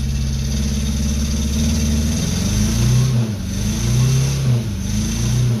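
An odd old car engine with no gauges revs up and down in loud, close, repeated swells over a rough running idle, its throttle held open in pulses.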